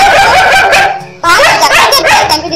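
A dog barks and yips loudly and close by in a burst of rapid barks, breaks off for a moment, then resumes with another excited string of yelping barks.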